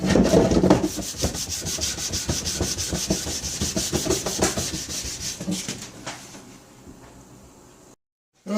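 Steady rhythmic rubbing strokes of wet 600-grit sandpaper on ATV plastic, loud and close, slowing and fading near the end before a brief silence.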